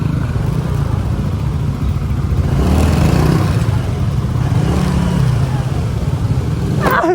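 Loud, close street traffic rumbles continuously in Binondo, Manila, on a road under construction, with engines revving and motorcycles passing, swelling midway through.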